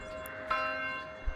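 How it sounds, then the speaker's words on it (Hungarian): A church bell tolls in a medieval village in the Manor Lords video game, one clear resonant strike with a long ringing decay at moderate distance. "templomi harangszó"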